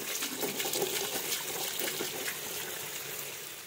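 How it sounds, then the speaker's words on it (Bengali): Snake gourd, potato and tomato are rinsed under a running kitchen tap, with a steady, moderately close rush of water and faint splashes throughout. "চলুন সব সবজিগুলো আমি কলে একে সুন্দরভাবে ধুয়ে নিই।"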